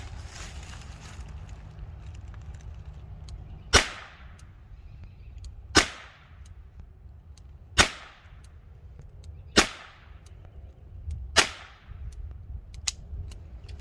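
Five Winchester small pistol primers in a Chiappa Rhino .38 Special revolver, each a sharp, loud crack with a brief ringing tail, spaced about two seconds apart over a low steady background, with no talking.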